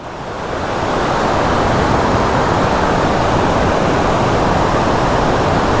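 A waterfall beside the road near Valparai roars as a loud, steady rush of falling water that swells in over the first second and then holds constant, with no talking.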